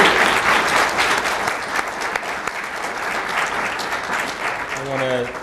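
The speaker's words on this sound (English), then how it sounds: "Let's have a round of applause for our panel for time." A community meeting audience on homelessness applauds its panel, the clapping steady and full for several seconds before a voice begins speaking near the end.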